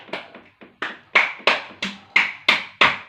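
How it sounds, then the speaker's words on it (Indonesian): A small group in a classroom micro-teaching session claps in a steady rhythm of about nine distinct hand claps, close and crisp, growing slightly louder toward the end. "Oke, tepuk tangan untuk kita semua."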